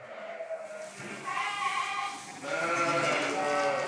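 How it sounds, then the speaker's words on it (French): Sheep bleat on a Cotentin salt-meadow farm of about 300 ewes, several overlapping calls in a steady, fairly close chorus. "Près de 300 brebis."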